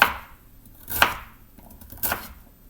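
Carrots chopped with a knife on a cutting board for a pressure-cooker seitan soup, three sharp separate chops about a second apart, close and clear with quiet gaps between them.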